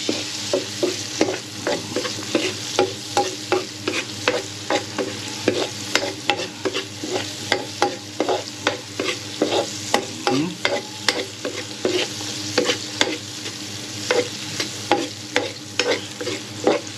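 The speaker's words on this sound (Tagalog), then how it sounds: "lagay natin yung sibuyas" Onions sauté in a pan as Thanksgiving pancit is cooked, with a constant close sizzle and frying crackle under rhythmic scraping of a spatula stirring every second or so, no voices.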